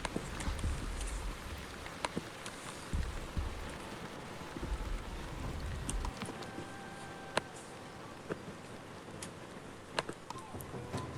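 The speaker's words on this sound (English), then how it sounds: "Light rain raises humidity." Light rain falls steadily in The Wandering Village video game as a soft, continuous hiss. Scattered faint ticks and drops sit over the hiss, with a quiet low rumble in the first part, and no one speaks.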